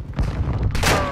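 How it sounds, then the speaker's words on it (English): A short, loud burst of video game gunfire, booming shots in rapid succession with a harsh crack near the end. "You are taking effective fire"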